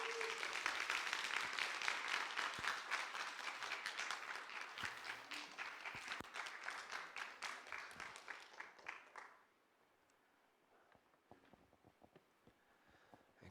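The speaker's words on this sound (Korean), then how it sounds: "우리 선교사님 가족들이 다 함께 오셨는데 우리 박수로 한번 환영하고 축복하겠습니다." A church congregation claps warmly to welcome a missionary family. The applause is sustained for about nine seconds, then fades to near silence with a few stray claps.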